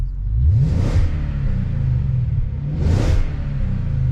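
Deep, rumbling V8 engine of a BMW E39 540i idling close by, revved twice in quick rising blips that growl and settle back to a throaty idle.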